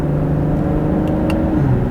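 A 2017 Cadillac CT6 Platinum with the 3.0 twin-turbo engine and 8-speed automatic, shifted manually: a steady close engine drone whose pitch drops with a gear change partway through, plus a couple of faint clicks.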